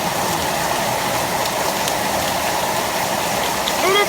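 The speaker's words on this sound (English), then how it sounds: "Look how much rain. It's so loud. It's pouring bad." Heavy rain pouring down outdoors, a dense, loud, steady hiss of falling water that continues unbroken throughout, with a faint brief sound at the very end.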